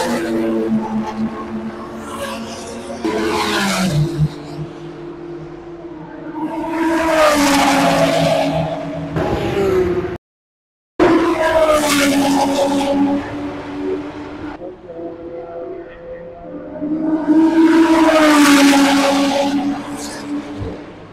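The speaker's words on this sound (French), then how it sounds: "Donc Martin est parti dans la Lotus Exige 430" A Lotus Exige 430 circles the Le Mans circuit, its engine rising and falling in loud high-revving bursts with a brief tire squeal, heard from trackside and cut by a short gap.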